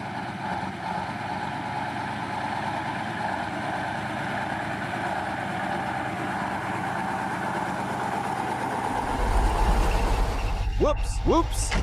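A Soviet KrAZ-256B1 heavy-duty dump truck engine idles with a steady, coarse rumble that deepens and grows louder near the end as a voice briefly speaks.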